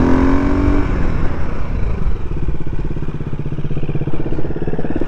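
A supermoto motorcycle engine runs loud and close with a steady throbbing rumble, dropping in pitch from a higher whine to a low, pulsing idle-like chug over a few seconds, with no voices.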